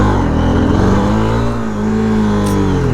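A Honda motorcycle engine revs hard during a wheelie attempt while traction control cuts power, a loud, close, sustained roar with pitch rising and dipping briefly midway.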